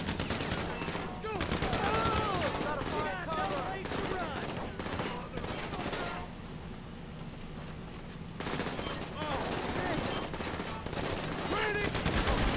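Rapid bursts of automatic gunfire in GTA 5 Online crackle in dense volleys, with a short lull midway before the shooting resumes, loud and close, with voices talking in between.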